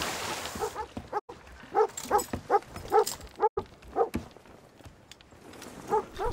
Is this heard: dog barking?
yes